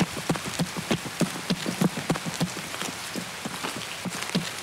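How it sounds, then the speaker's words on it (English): Rain in the video game Escape from Tarkov, a dense patter of drops pattering steadily on surfaces with irregular heavier taps throughout, close and moderately loud, no talking. "Stupid rain."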